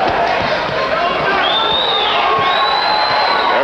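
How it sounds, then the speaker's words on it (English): Boxing crowd at the Showboat Sports Pavilion roaring and cheering continuously through a fight, a dense wash of voices with occasional whoops rising above it. "Basically, the crowd is a Chacon crowd."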